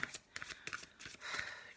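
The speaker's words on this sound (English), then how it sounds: "I tend to be able to shuffle really well." A deck of oracle cards being shuffled by hand, with repeated soft riffling bursts and flicks in an uneven rhythm, close and quiet, with no talk.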